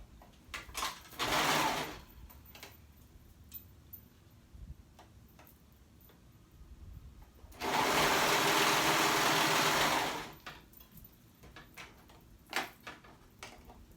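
A sewing machine stitching through three layers of fabric runs in two bursts, a short one and then a longer steady whir of about three seconds. Quiet ticks and handling noises fall between them, with no voices.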